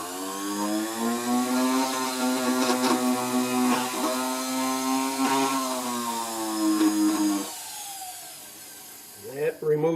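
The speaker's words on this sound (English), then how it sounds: "Now just the final polishing with this little wheel" Small rotary polishing wheel buffing the frets on a Gibson J50 acoustic guitar, a steady high whine with fluctuating pitch as it presses on the metal, then spinning down near the end.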